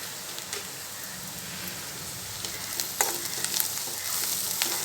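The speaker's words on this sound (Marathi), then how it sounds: "ढवळून घ्यायचं।" Onion browning in a pan sizzles and crackles steadily after salt is added, with a spoon stirring through it and scraping now and then. The sound is close and moderately loud.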